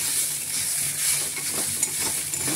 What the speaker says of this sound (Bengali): সোয়াবিন ভাজা হচ্ছে। তরকারি করবো বলে ভাজছি।